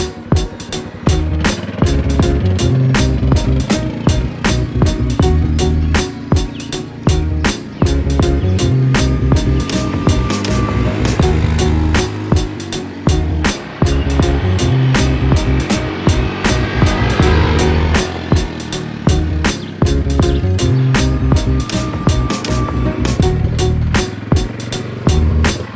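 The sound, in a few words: Yamaha Kodiak 400 ATV riding on dirt road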